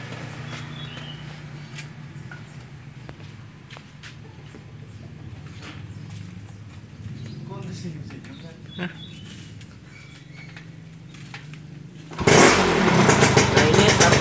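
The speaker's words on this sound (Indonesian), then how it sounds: "ini sampai suara motor sudah ngerebek, agak full" A carbureted motorcycle engine, during pilot jet and main jet tuning, idles low with faint birdsong, then revs up sharply and loudly near the end.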